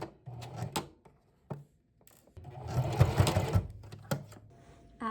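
A sewing machine runs a base stitch across fabric for reusable gift wrap, short whirring bursts with pauses, then a longer close rapid run of stitching.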